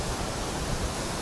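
A tall mountain waterfall in the Urgam Valley roars as a dense, continuous wash of falling water, close by and loud, with nothing else heard over it.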